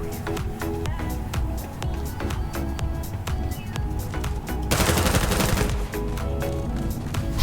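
Rapid gunfire from 11mm-round weapons in the video game Starfield, a fast rhythmic string of close, loud shots, then a denser burst of fire near the end.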